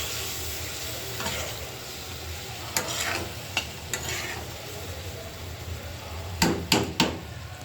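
Fish and potato curry fries with spices in a pan, giving a continuous close sizzle. Sharp metallic clinks and knocks from a utensil against the pan cut in now and then, and no one speaks.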